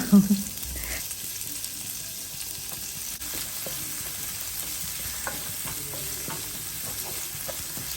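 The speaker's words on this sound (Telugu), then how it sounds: "ఇంకా నేను దాల్ ఫ్రై కూడా ఇక్కడ తాలింపు అయితే వేసేస్తున్నాను ఇదే కడాయిలో" Spices tempering in hot oil in a kadai for dal fry, a low steady sizzle with occasional stirring scrapes and a brief louder clatter at the start, no voices.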